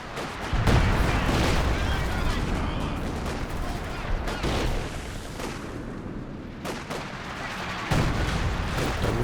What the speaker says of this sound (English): I got some concentration barrage right on the base doorstep here